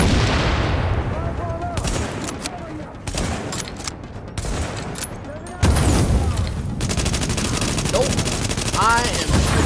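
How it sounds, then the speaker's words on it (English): Automatic gunfire in the video game Tom Clancy's The Division: dense, continuous bursts of loud shots rattle through the whole stretch with barely a pause, a heavier volley swelling in the second half. "I am shooting at this other dude."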